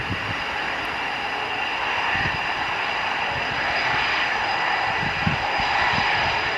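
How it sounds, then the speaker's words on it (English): An EA-18G Growler jet engine spooling up at an airbase, a steady loud roar and whine that holds for several seconds with faint fluctuations. "there's this second engine starting now"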